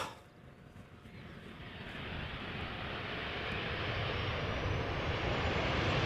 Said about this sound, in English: a 737 arriving from London Heathrow